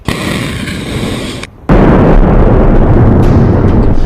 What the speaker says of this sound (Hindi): एक बड़ा धमाका।